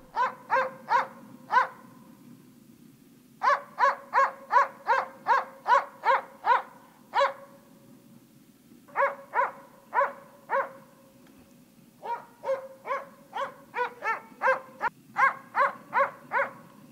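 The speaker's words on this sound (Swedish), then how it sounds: "snart kan Emil konstatera att det är kokalv som Divo skäller på" Jämthund barking at a moose calf in an old spruce forest, with rapid bursts of sharp, moderately distant barks broken by brief pauses and an occasional drawn-out howl-like bark.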